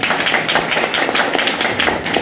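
An audience at a seminar claps in a steady, rhythmic unison beat, loud and close, with repeated sharp claps throughout.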